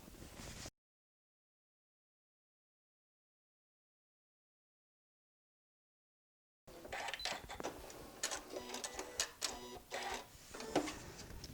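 A sewing machine runs a stitch line across an apron: a short burst of motor noise, several seconds of silence, then a longer stretch of fast, rattling stitching at moderate level.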